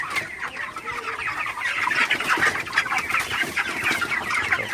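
A shed full of broiler chickens suffering from cold clucks steadily and close by. The overlapping calls form a continuous, busy chatter throughout, with no talking.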